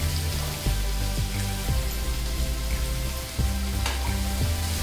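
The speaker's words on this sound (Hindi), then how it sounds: "अब जो कटे हुए प्याज थे वो मैं इसमें डाल देती हूँ" Chopped onions sizzle and fry steadily in a pan, a loud close crackling hiss broken by a few spoon or spatula knocks against the pan.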